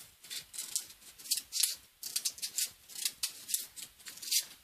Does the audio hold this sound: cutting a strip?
yes